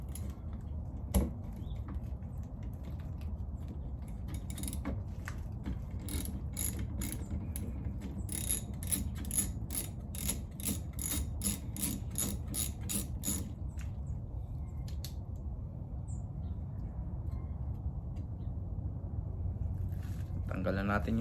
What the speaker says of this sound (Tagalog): kailangan kumuha ng socket para matanggal yan. So, 13mm socket